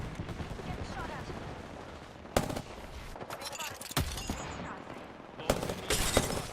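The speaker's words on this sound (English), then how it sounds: "Getting shot at." Video game gunfire rattles in dense bursts throughout, with several sharp louder cracks standing out against a continuous battle din, heard alongside faint voice activity.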